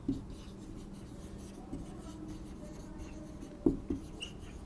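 Marker or chalk writing on a board during a lecture on air and water purification, with faint scratchy strokes and a few sharper taps, quiet over a steady room hum.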